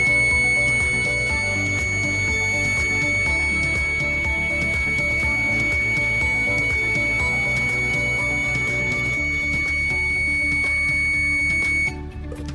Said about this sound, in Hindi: सेफॉन पावर प्यूरिफायर का ये अलार्म बज उठा